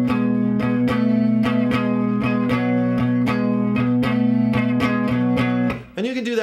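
Electric guitar blues rhythm in B played without palm muting, so the strummed chords ring open and sustained in a steady repeating shuffle, loud and close, before cutting off near the end.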